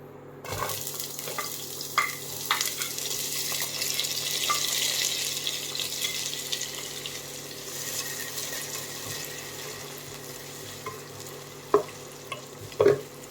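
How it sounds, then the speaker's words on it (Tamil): Chopped onion, garlic and green chili sautéing in hot oil: a low, continuous sizzle with occasional stirring clinks, growing a bit louder midway before a few sharp utensil knocks near the end. "இதை நம்ம நல்லா வதக்க விடுவோங்க கொஞ்ச நேரம்"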